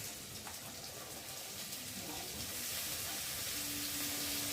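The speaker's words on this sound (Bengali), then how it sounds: "পেঁয়াজ আর লঙ্কাটা দিয়েছি, ভাজা ভাজা হয়ে এসেছে" Chopped onion, green chili and potatoes fry in hot oil in a pan for chow mein. The sizzle is soft and continuous and grows slightly fuller toward the end.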